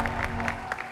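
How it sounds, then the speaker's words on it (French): Steady clapping from an audience, a dense patter of many hands with a few sharper claps standing out, moderately loud. "On va les applaudir encore très fort, s'il vous plaît"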